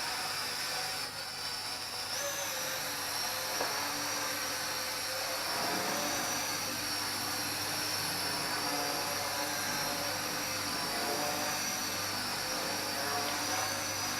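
A small HT F802 quadcopter drone with oiled motors flies with a steady high-pitched whine that holds fairly constant throughout, rising slightly in pitch at times.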